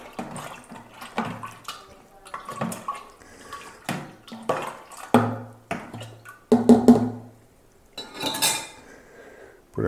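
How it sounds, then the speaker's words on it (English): Clinking and scraping knocks sound up close as guava wine must is stirred with yeast in a fermenter, in irregular bursts with wet sloshing between pauses. "we'll probably just give it a quick little stir, just to incorporate the yeast a bit."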